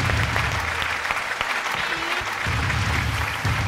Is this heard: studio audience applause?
yes